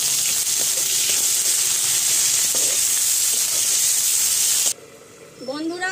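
Chopped onion hits hot oil in a pan with a loud, steady hiss that lasts several seconds, then stops abruptly and gives way to quieter sound with a faint rising tone.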